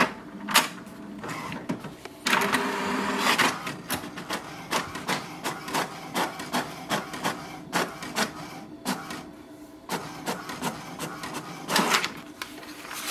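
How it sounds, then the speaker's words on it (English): An HP DeskJet 4220e printer prints a Wi-Fi Direct password sheet, with rhythmic mechanical clicks, whirs and print-head passes repeating close by, alone without talk. "To print the password of the printer, we have to press the information button and the page or resume button once together."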